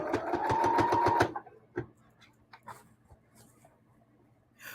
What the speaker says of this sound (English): go forward, go back to secure the stitches, and then just sew